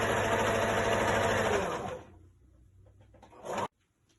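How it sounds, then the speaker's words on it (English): A sewing machine stitching both side seams of a skirt runs in a steady close whir for about two seconds, then slows and stops, followed by a brief mechanical burst. "Sewing both sides of my skirt right now"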